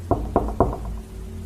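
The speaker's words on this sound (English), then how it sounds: "there was a knock at the front door" Three firm knocks at a front door land in quick even succession, close and loud, over a low steady room hum, followed by a brief quieter tail.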